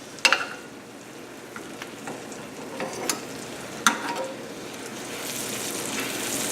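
Garlic fries in a pan while a steady, soft sizzle crackles throughout. A few sharp clicks and taps from stirring sound close by, and the frying gets slightly louder toward the end.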